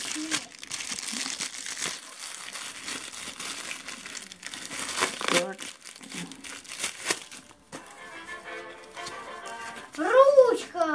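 Parcel packaging from China, holding stationery and slime, crinkles and rustles as it is torn open, with a voice talking over the steady handling noise.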